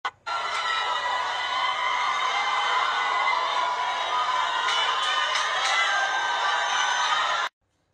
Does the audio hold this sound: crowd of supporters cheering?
yes